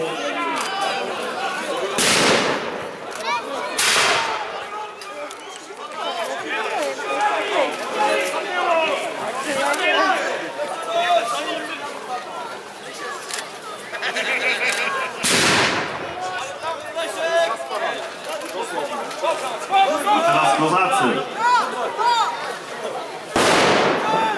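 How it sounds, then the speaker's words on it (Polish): Several sharp, loud musket blasts from an infantry volley at a Swedish-Polish war battle reenactment crack out at irregular intervals over a crowd's ongoing chatter and shouting, some shots close together. "Piechota wybraniecka w tej chwili szykuje się do strzału."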